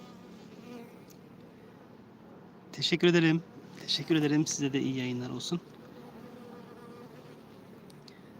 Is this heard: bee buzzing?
yes